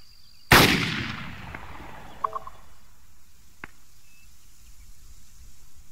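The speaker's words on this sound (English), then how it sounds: "He was firing at someone down there" A single loud gunshot in Arma 3 Exile rings out early and trails off into an outdoor echo, followed by faint distant pops and clicks over quiet ambient background.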